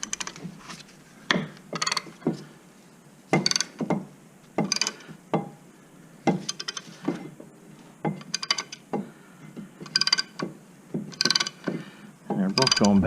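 Corvette C5 brake caliper pistons are pushed back into their bores, a series of short, sharp mechanical clicks and scraping bursts in irregular rhythm, close and fairly loud, with quiet gaps between.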